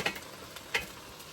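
A spatula mixes eggs and rice for chicken fried rice in a frying pan, two light scraping taps over a soft sizzle.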